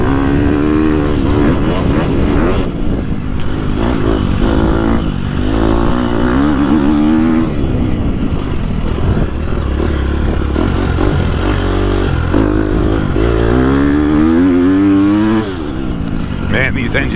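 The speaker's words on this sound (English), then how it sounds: "these engines pull when you rev them up." A dirt bike engine, a 2022 Honda CRF250R or 2021 Gas Gas EX250F, revs loud and close on a track, rising and falling through gear changes with a rider talking over it.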